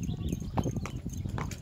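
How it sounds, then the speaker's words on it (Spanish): Horse hooves clip-clop in a steady, close rhythm while a woman rides, repeated thudding steps with no talk over them. "Aquí andamos a caballo."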